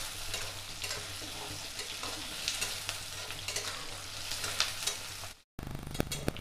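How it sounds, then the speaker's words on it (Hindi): Onions frying in a pan for aloo gobhi: a steady, close sizzle with frequent stirring scrapes throughout, cut by a brief dropout near the end before the frying resumes. "ये हल्का सा हमें गुलाबी कलर करना है इसमें, बिल्कुल ज़्यादा लाल नहीं भूनना है।"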